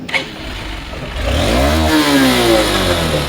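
A new 2024 160cc motorcycle with ABS and double disc brakes revving up from idle, engine pitch rising and holding high in a close, loud, steady roar.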